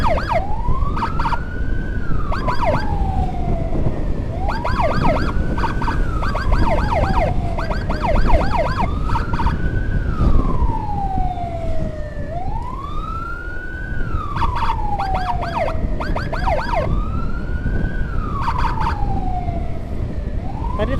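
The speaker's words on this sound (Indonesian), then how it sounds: "kedengeran ada sirine" An ambulance siren wails, rising and falling repeatedly, loud and close, over steady road noise, with a few bursts of honking tones mixed in.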